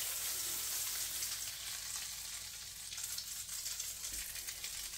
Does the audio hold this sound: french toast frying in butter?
yes